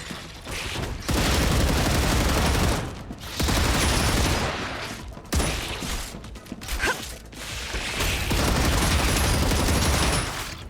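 Bursts of rapid automatic gunfire in the Star Rupture video game, in several loud sustained volleys separated by short pauses, with mechanical clanks in between.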